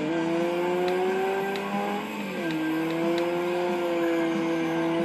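A race car engine in Ford Racing 2, an orange car, revs hard and climbs in pitch through the gears, loud and continuous with a brief dip mid-way, no voices.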